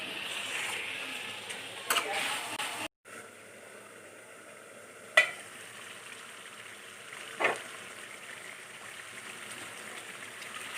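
Chicken pieces fry in a pan with chicken masala and ground cumin, giving a quiet, steady sizzling hiss broken by a few brief clinks and a momentary dropout.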